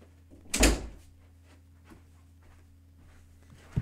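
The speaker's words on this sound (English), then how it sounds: "but yeah, I have to shut the door." A door is shut with a single sharp thud close by, followed by quiet room tone and a faint knock at the very end, with no talking.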